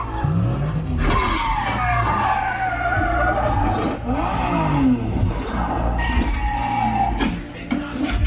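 Loud cinematic car chase effects: roaring engines, revving and screeching tires, dense and continuous, played back through a Nakamichi Shockwafe Ultra 9.2.4 channel 1000W Dolby Atmos/DTS:X soundbar.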